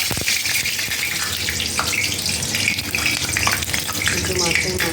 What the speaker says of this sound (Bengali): একটু মাছের মাথা ভাজবো